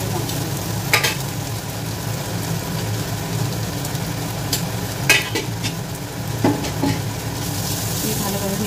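Ground spices (turmeric, coriander, cumin and Kashmiri chilli) stirred into a sizzling frying pan while making paneer biryani; a steady fry hiss with scattered scraping clicks of the spoon, close and moderately loud, no talk.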